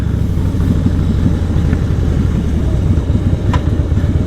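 Harley-Davidson Fatboy motorcycle engine rumbling deep and steady throughout, a loud continuous low drone with no talk.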